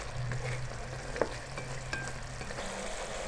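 Chicken with chili flakes fries in a pan while being stirred, giving a steady sizzle with a few sharp clinks of the utensil against the pan.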